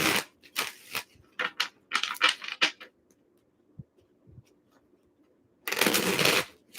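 Tarot cards are shuffled up close in quick crisp riffling bursts, a cluster of rapid snaps, a quiet gap with a few soft taps, then one more dense riffle, with no talking.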